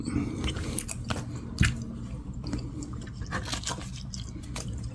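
Someone chews Tootsie fruit chews close to the mic, making steady sticky, squelching bites and mouth clicks over a low hum, with no talking.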